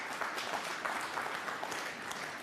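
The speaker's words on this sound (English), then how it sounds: "The applause for frame ball." Snooker crowd at the Welsh Open applauding a frame ball, a steady round of clapping from a full audience at moderate distance, lasting the whole moment without letting up.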